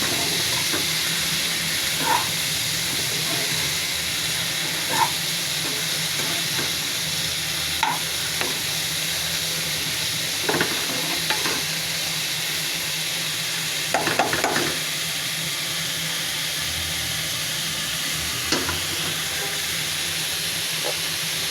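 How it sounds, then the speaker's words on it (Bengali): Sour red chukai fruit frying in a pan, a long steady hiss and sizzle with occasional scrapes and taps of a stirring spoon spaced several seconds apart, close-up and without speech. "তাহলে একটু টক ফলটা ভেজে নিতে হবে।"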